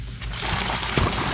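Water gushes hard from a hose as a hot tub pump kicks on, a loud, continuous churning splash with a brief surge near the end.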